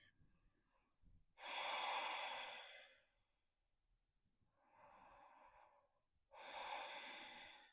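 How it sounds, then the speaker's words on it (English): Slow, deep breaths in and out while holding yoga chair pose (Utkatasana), three long airy exhalations, close and soft, separated by quiet pauses with no talking. "inhaling and exhaling."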